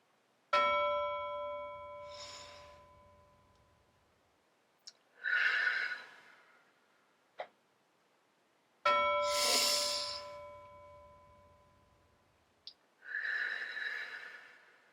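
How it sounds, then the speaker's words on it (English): Deep, slow cool-down breaths after exercise, alternating long audible inhales and breathy exhales over a soft chime, close and unhurried, about two full breath cycles with quiet pauses. "Let's take 3 cool down breaths so we can settle back in, lower our heart rate, and feel ready to go."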